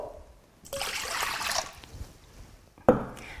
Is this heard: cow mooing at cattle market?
no